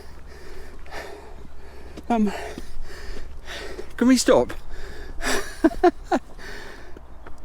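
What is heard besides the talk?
heavy breathing while climbing Glastonbury Tor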